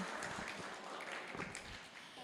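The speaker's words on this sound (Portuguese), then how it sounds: "Aplausos para ele, pode aplaudir aí." Audience applause for a cast trainer at a talk session, a dense steady wash of clapping from a room of people, moderately loud and continuous.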